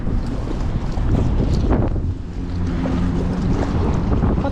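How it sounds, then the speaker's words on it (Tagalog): Strong wind buffets the microphone on a boat at sea, a steady loud roar with gusts throughout and a brief lull midway, with water and hull noise beneath. "Lakas talaga yung hangin."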